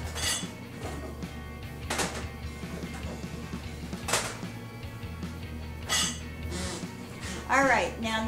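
Clinks and clatters of dishes and kitchen items being lifted off and from around a microwave nearby, a few sharper knocks amid quiet room noise.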